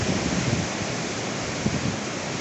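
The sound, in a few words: water discharging from dam spillway, falling like a waterfall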